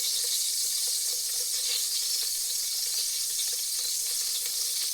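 Mustard seeds sputter in hot oil for a sprouted horse gram sambar, a steady close sizzle with fine crackling running throughout and no voices.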